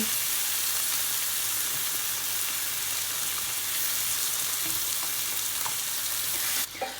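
Plum tomatoes and Moroccan ingredients fry in a hot pan, giving a steady, even sizzle that carries on without a break, close and clear, with no talking.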